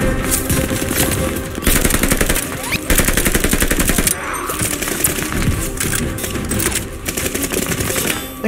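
Sustained rapid machine gun fire in Call of Duty: Vanguard's Phoenix mission, loud and continuous bursts with brief pauses over dense in-game battle noise.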